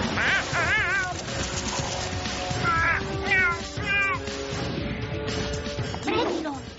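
A cat meows in an animated Halloween night scene, several short rising-falling meows mixed in with voices talking and other busy sound effects.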